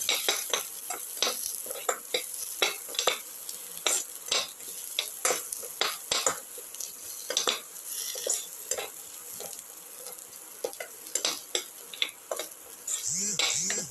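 Garlic, potatoes and cucumber are sautéed in a pan for a cucumber potato roast, with a constant sizzle under rapid, rhythmic scrapes and clinks of a utensil stirring close by.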